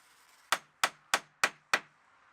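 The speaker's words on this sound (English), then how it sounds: "had a jar full of clout nails ready to secure the felt in place to the battens on the roof panel." A hammer drives clout nails through roofing felt into battens on a log store roof panel, five sharp ringing metallic strikes at an even pace, close and clear against near silence.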